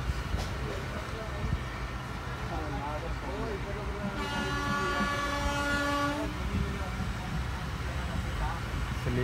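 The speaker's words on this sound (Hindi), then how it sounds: "हमारी ट्रेन आ चुकी है" Passenger train arriving at a station at night, a rumbling rail roar with clattering wheels and a drawn-out horn blast midway, while people talk nearby over the noise.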